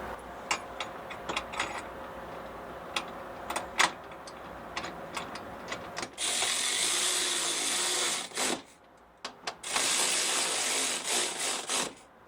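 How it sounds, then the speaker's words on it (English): Torque wrench working the bolts of a Tuffy cargo enclosure on a Ford Bronco, heard as close rapid ratcheting clicks and scraping metal, in bursts with short pauses between them. "Now we're gonna torque everything down."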